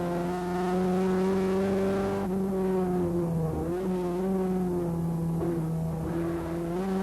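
Production cars from the 1988 Production Car Championship racing at Brands Hatch, engines droning loud and close with steady pitch, dipping and rising as drivers lift and accelerate through a corner.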